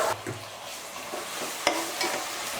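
Radish and tomato being sautéed and stirred in a pan, with a soft sizzle under scraping stir strokes and a few sharper clinks of the spoon against the pan, close and fairly quiet.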